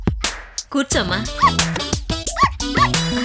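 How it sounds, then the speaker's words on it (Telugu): A puppy named Chintu lets out several short, high-pitched yips and whimpers, close by and mixed in with people talking. "అది మా కుక్క పిల్ల, పేరు చింటూ"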